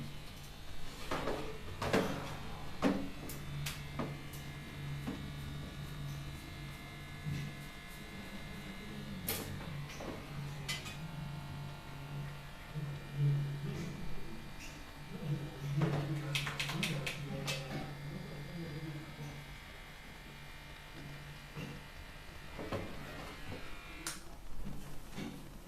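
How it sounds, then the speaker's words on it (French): An electric razor buzzes close by with a low steady hum, shaving in intermittent passes broken by clicks and rustling handling noises. "je vais mettre le verre pour bien me raser"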